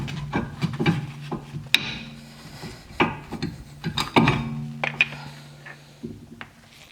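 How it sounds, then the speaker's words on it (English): A BMW brake caliper is slid off its mount with the anti-rattle clip already removed, giving close, short bursts of scraping and rubbing metal with brief knocks between quieter pauses. "Remove the anti-rattle clip from the caliper and carefully slide the caliper off."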